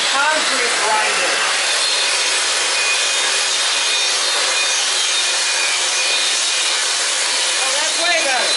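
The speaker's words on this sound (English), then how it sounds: "If you think a buffing wheel does that, then it's a concrete grinder." A concrete grinder grazing a surface gives a steady, loud, broadband abrasive rasp that holds continuously for the whole stretch, close by, with no clear pauses.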